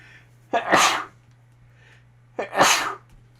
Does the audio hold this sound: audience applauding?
no